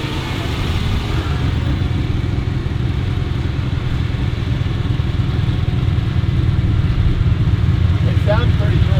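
A loud vintage 1964 Ferrari 250 Lusso engine idling with a steady, throbbing low rumble and rapid pulsing; a voice speaks briefly near the end.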